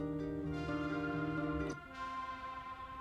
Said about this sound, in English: And there's some nice, pretty synth melodies.